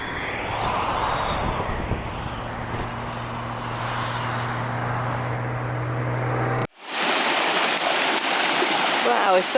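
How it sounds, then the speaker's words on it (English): A brook flowing beside a hiking trail in Massachusetts makes a steady rushing wash with a low engine hum behind it, before louder, closer water noise takes over. "it's so pretty walking right alongside this brook, this beautiful brook."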